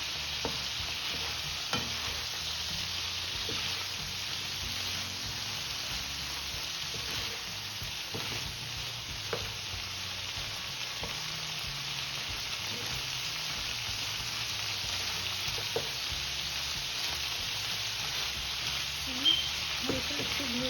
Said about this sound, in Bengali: বসিয়ে মাছটা একটু ভেজে নিচ্ছি